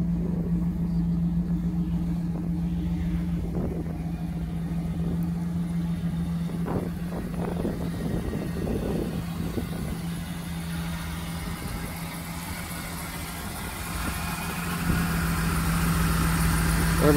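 The V8 engine of a 1992 Chevy Camaro idles with a steady, deep low rumble, holding an even tone throughout with a slight swell near the end.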